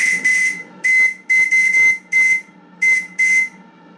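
A steam whistle on a live steamboat sounds in a series of short, sharp blasts, about seven toots in irregular rhythm, loud and close with a hissy edge.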